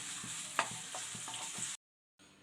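Cloves and cinnamon sauté in oil in a pan with a soft, steady sizzle and a few light stirring clicks, then a short silence before the frying resumes.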